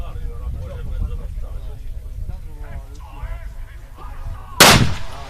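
A single loud, sharp rifle shot cracks near the end, fired at a long-range shooting competition in Italy. People talk quietly before it.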